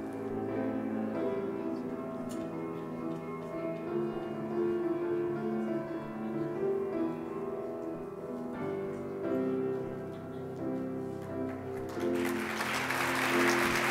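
Applause for the Engineering Faculty flag bearers at a university flag-bearer changeover ceremony, rising into broad clapping near the end over sustained band or organ tones that fill the hall.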